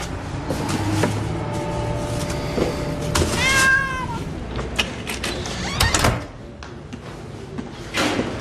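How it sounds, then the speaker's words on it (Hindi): A cat meowing in a Hindi-dubbed Hollywood movie, several clear meows midway over a busy background with door sounds and faint street noise. "इधर आओ शैतान बिल्ली"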